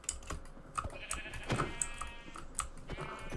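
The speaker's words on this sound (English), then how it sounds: "Oh, there's sheep." Sheep bleat in Minecraft with short, clear calls scattered over a few seconds, mixed with rapid keyboard tapping and light clicks throughout.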